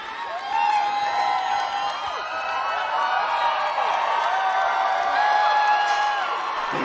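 A packed hall at the Star Wars Celebration 2019 panel for Episode IX roars with sustained cheering, whoops and high shouts over steady applause, loud and continuous throughout.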